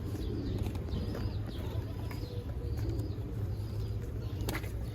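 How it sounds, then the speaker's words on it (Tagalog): Soft, low cooing of pigeons murmurs continuously around the town plaza in Calvillo, Mexico, outdoors, with faint chirps and scattered ambient noise, no speech. "May nagpapakain kaya dyan sa mga kalapati nila?"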